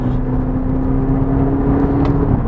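An Audi TT S-Line radiator fan whirs steadily under the idling engine's low hum, close by and constant, with a few faint knocks near the end.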